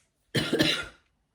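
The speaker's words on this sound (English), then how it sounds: "the cough came in my throat before I could speak it" A single short, throaty cough, close and clear, followed by silence.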